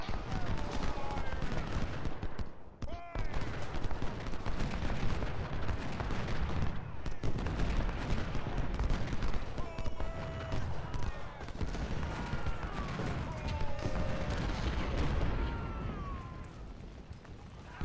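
Battle noise from the Ultimate General: Civil War video game keeps up a dense continuous rumble of massed musketry and cannon fire, with faint horse sounds and shouts in the background.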